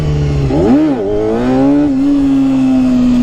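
A classic four-cylinder 250cc Honda CBR250RR MC22 motorcycle revs up sharply, its engine pitch swooping up and falling back before settling into a steady, loud high drone during a wheelie attempt.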